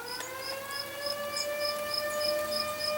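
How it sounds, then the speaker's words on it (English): A civil defense siren sounded for its daily noon run, a steady wailing tone carrying across the neighborhood with no break for the full few seconds. "They just run the siren at noon and at 6 for some reason."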